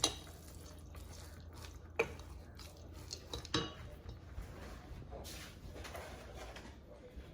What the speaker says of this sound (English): I would like to mix all this vegetable first